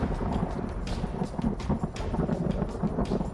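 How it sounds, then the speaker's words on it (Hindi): The swollen Beas river in flood in Mandi rushes in a dense, continuous roar of churning water with turbulent rumbling, unbroken by voices. "डरा रही ब्यास की उफनती लहरें"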